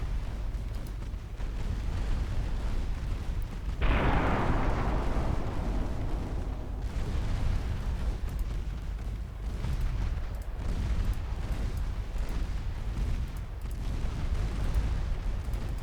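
Destroyer main guns firing in a naval strategy game, a loud booming blast followed by a long rumbling decay, then a steady churn of distant thuds and rumble, with no talking.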